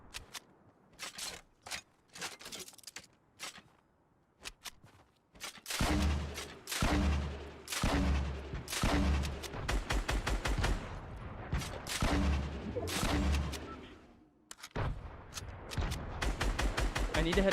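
Rapid gunfire in the Fortnite video game, dense volleys of sharp shots and bursts, loudest in sustained runs through the middle and end, with quieter scattered shots and faint talk early on.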